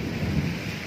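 Rain falling steadily with a low rumble of thunder underneath, a dense, even wash of sound lasting under a second, with no voices.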